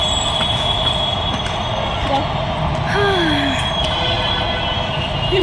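Continuous rumble inside a Bengaluru metro train from Goraguntepalya, with a faint squeal of wheels and brief tonal whines, steady and fairly loud throughout.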